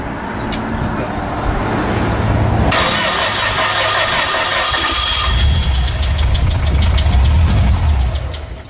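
A small gaseous-fuelled test engine, being flooded, cranks, catches and roars up, then runs loudly with a rough, uneven rattle, close by and filling the clip.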